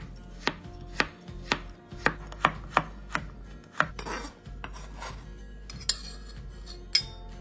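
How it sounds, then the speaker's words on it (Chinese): A knife slicing carrots on a board gives sharp, evenly spaced chops, about a dozen close crisp knocks with a faint clink now and then and no voices. "另外再将100克胡萝卜切片"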